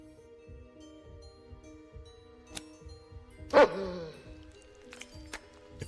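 A Great Dane in the video game House of 1000 Doors gives a single short bark midway, fairly clear against a quiet background of faint music tones and soft knocks.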